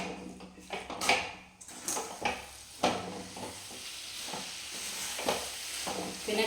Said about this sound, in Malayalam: ഇനി നന്നായിട്ട് എല്ലായിടത്തും ഇതിൻ്റെ ഗ്രേവി ആവുന്ന വിധത്തിൽ ഇളക്കി കൊടുക്കുക.